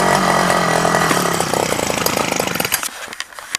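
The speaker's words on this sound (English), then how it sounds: "Oh, it's dying now." Small two-stroke engine sputtering as it runs out of fuel during winterizing, loud and harsh at first, then faltering into uneven coughs and dying away near the end.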